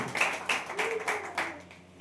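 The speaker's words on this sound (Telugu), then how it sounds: "అందరూ గట్టిగా చప్పట్లు కట్టి దేవుని కనపరుస్తారు" A congregation at a Telugu Sunday church service claps hands together in a loud, fairly even rhythm of repeated bursts that fade slightly toward the end.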